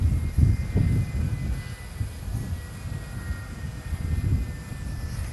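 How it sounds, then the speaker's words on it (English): Air Force One's jet engines idle on the airport tarmac, turned down to a steady low rumble and whine that runs throughout at moderate distance, with no voices. "they've turned the engines down a little bit so we can hear"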